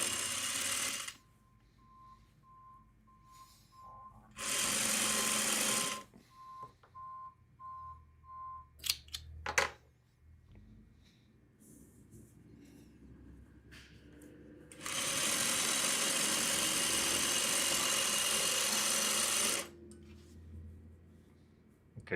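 Sewing machine stitching fabric in two steady, loud runs, a short burst and then a longer stretch, separated by quiet gaps with small handling clicks and faint beeps.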